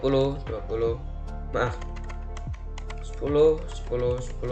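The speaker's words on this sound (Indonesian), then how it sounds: "Kita ketikkan network 10" Typing on a computer keyboard while router EIGRP configuration commands are entered, a few scattered clicks heard beneath steady talking in Indonesian.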